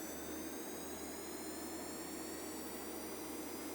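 Continuous whine and roar of a jet engine running in Kerbal Space Program, a steady, even drone with a high tonal hiss that persists at low level throughout.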